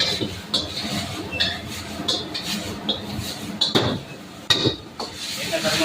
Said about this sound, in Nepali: यसरी झ्याम हल्लायौँ।